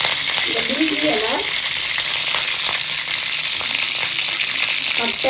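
Curry leaves, green chili and whole spices such as bay leaf, cinnamon, cloves and cardamom sizzling loudly in hot oil for a Tamil mutton ball curry, a constant close crackle with some stirring scrapes.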